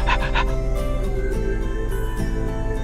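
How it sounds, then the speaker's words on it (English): A dog pants rapidly and rhythmically close to the microphone, loud and continuous, with no talk over it. "their own sound of their breathing interferes with their ability to hear at great distance"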